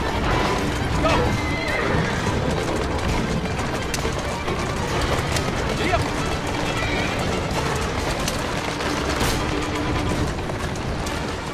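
Horse-drawn carriage racing at a gallop in the Assassin's Creed video game, with hooves clattering and horses whinnying under a dense, loud, continuous wash of game action noise and mechanical rattling.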